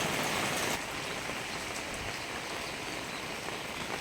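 Steady, dense rain pouring down and pattering on surfaces nearby in the morning after raining all night, continuous and even throughout with no voices.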